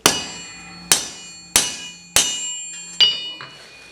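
A hammer strikes a rivet resting on an anvil, six sharp metallic blows at an even pace, each ringing out briefly before the next.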